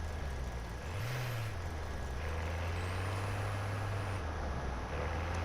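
Vehicle in Warzone 2 rolling along under a steady low engine drone, with a brief rising rev and faint tonal whines over continuous road rumble, fairly quiet throughout.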